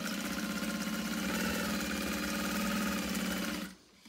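A sewing machine stitches thin cotton in a fast, steady mechanical whir with dense rhythmic needle chatter, close and continuous, stopping abruptly near the end.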